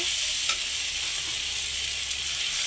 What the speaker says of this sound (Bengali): 1-2 মিনিট চার ভেজে নেব।